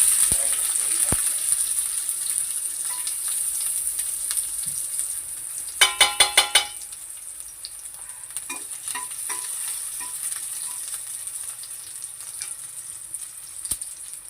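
Garlic dropped into a hot tempering for mango raita sizzles with a steady bright hiss, a short burst of crackling pops partway through, then a fainter spatter.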